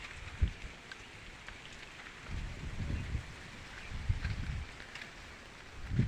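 Rain falling on a farm in a stormy spell, with goats nearby; a steady soft patter with a few heavier low gusts swelling and fading, fairly quiet throughout.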